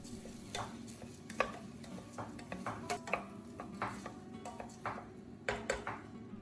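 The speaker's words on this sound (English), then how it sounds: "add the drained rice directly to the pot and stir well so each grain is evenly coated with the fragrant oil" A spoon scrapes and clinks against a pot on a gas stove while drained rice is stirred through garlic oil, irregular close taps and scrapes over a steady low hum.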